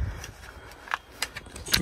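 Car keys for a used crossover such as a Skoda Kodiaq or Volkswagen Tiguan jangle close by in several bright, quick metallic clinks over a low background rumble.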